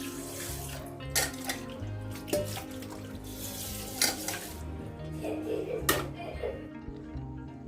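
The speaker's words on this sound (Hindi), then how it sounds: "और ये खाना खाने के बाद दोबारा बर्तन हो गए हैं इतने सारे धोने के लिए।" After a meal, a pile of dishes gets washed in a home kitchen: running tap water and sloshing, with clinks and knocks of pots and plates coming up at irregular moments, close and steady.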